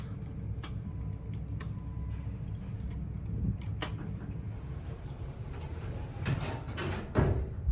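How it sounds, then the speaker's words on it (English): A ThyssenKrupp traction elevator door at a university engineering building ticks and clicks repeatedly in a quiet hum, then slides and creaks toward the end, with the car's vibration rumbling low throughout. "This thing vibrates a lot. Listen to that door."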